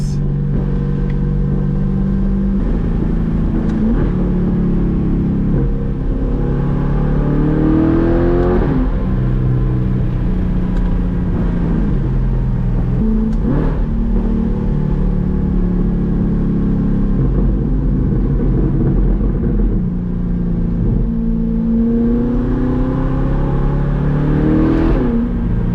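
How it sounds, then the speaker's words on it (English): C8 Corvette with a titanium exhaust heard from inside the cabin, engine note climbing under hard acceleration and dropping sharply at each upshift, loud and continuous throughout. "Absolutely glorious sound from this exhaust"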